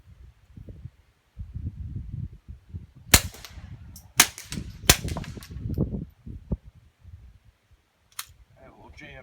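A Mark III pistol with a titanium-tube homemade suppressor fires a handful of sharp, muffled shots at uneven intervals, with low murmuring sounds between them.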